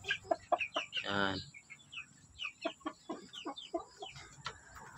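Hens in a small coop give short, choppy clucks and one longer squawk, heard close and moderately loud. Someone briefly speaks a single word among the bird calls.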